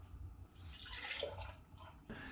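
Melted beef dripping is poured gently into a jar, a faint, soft liquid trickle and splash lasting a couple of seconds.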